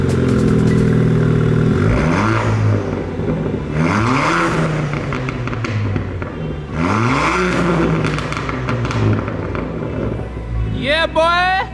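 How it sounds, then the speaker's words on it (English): A Ford Fiesta ST Mk7 with resonator and back box delete starts up and revs repeatedly, loud, rising engine sweeps with a rough exhaust rasp, each blip falling back to a throaty idle, close to the car. "give you a start up and see what it sounds like"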